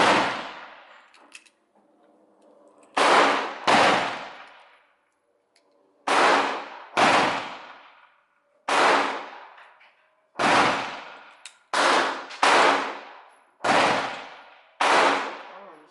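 Gunshots at an outdoor shooting range, about eleven loud, sharp reports fired singly and in close pairs with short pauses between, each ringing briefly before fading, with no talking.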